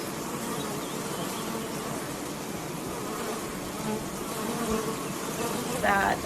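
Bees hum around outdoor beehives, a dense continuous drone of many wings close by, with a louder buzz as one passes near the end.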